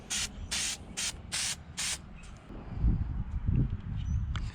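Fluid Film rust protection sprays onto a Jeep frame in five loud, evenly spaced hissing bursts, followed by quieter rustling and handling noises.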